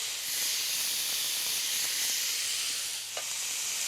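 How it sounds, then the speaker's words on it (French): Slice of Sisteron lamb leg sizzling in a pan over slightly lowered heat, a steady close hiss and crackle that runs throughout, with a faint clink near the end. "La viande est bien colorée, je l'ai retournée, je vais légèrement baisser le feu pour avoir une belle cuisson."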